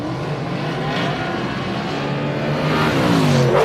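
Speedway race cars, including Wanganui Warriors entries, roar loudly through turns 1 and 2 as a continuous engine drone with shifting pitch, swelling slightly toward the end.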